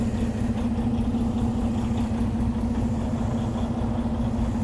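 A car engine idles after a cold start, a steady, even mechanical drone holding close and loud the whole time with no voices over it.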